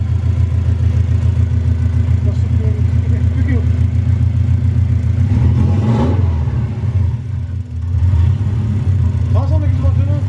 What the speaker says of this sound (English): Do you hear that revs go up and down?